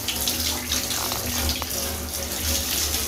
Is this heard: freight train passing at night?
no